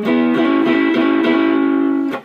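A sustained electric guitar tone through a Visual Sound Jekyll and Hyde overdrive pedal, gritty overdriven edge, one held chord with a few rhythmic re-strikes, ending abruptly.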